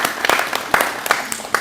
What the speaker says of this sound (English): But you can clap now, actually.